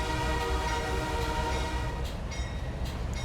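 Locomotive horn in the train simulator game Trainz A New Era, a sustained tonal blast over rumbling engine and rail noise, with a bell switched on alongside.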